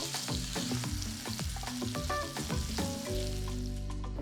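Chana dal, urad dal, cumin and mustard seeds tempering in hot oil for an Andhra tomato coriander pachadi, giving a loud, continuous crackling sizzle under a tonal music bed, with no speech.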